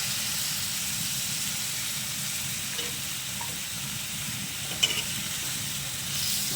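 Chicken adobo with potatoes and soy sauce sizzles steadily in a pan, a constant hiss of frying with a brief clink of a utensil near the end.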